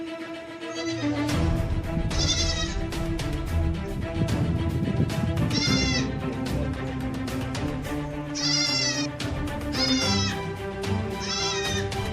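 Goats from a herd attacked by dogs bleat repeatedly and loudly, several wavering cries overlapping one after another above a constant rough background noise, with no talking.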